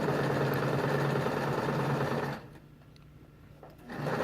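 A sewing machine runs steadily, stitching a stretched elastic waistband with the two edges held together, then pauses for about a second and a half before starting up again at the end.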